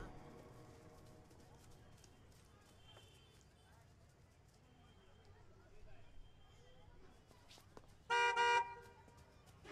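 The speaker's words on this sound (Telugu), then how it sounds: "ఆగున్న కార్ నుంచి హార్న్ కొడతారు ఎందుకండి?" A car horn honks from a parked car on an empty road, one loud sustained blast near the end after quieter background noise, with people talking.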